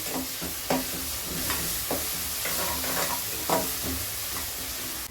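Garlic-ginger paste sizzles and fries in a hot pan, a steady crackling hiss broken by occasional scrapes of a spoon stirring.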